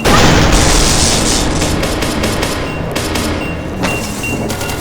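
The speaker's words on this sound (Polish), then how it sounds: "To granat!" Loud, dense gunfire and booming blasts from a battle in the video game SCP: Secret Laboratory, with a heavy grenade explosion near the start and sharp bursts throughout.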